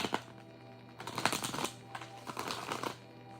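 Oracle cards are shuffled by hand in short bursts of papery riffling and tapping, close and fairly clear, with no talking.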